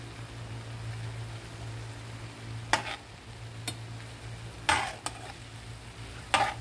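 Vegetables with whole shiitake mushrooms stir-fried in a pan: a low steady sizzle with a few sharp scraping strokes of the spatula spaced a few seconds apart, close and fairly quiet.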